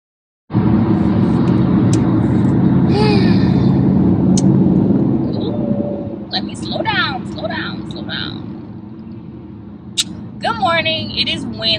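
A car driving, heard from inside the cabin: a steady low road rumble that fades somewhat after a few seconds, with voices and small clicks over it.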